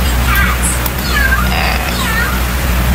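Several faint, drawn-out cat meows rise and fall over a loud, steady hum, in a run of repeated calls.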